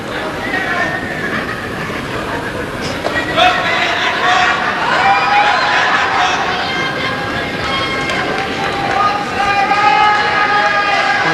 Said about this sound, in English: Crowd here at the National Indoor Arena in Birmingham really enjoying this men's doubles